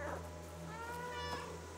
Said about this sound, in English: Press the left alt to meow. Oh, nice, I can meow.